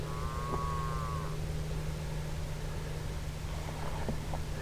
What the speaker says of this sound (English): Now I've got to be mindful of the cattle that are in this pasture.